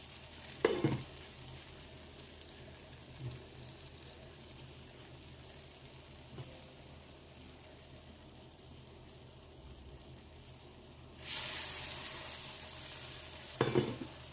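A breadcrumb-coated snack shallow frying in oil gives a low, steady sizzle, with brief louder crackles as pieces are moved and a brighter burst of frying near the end.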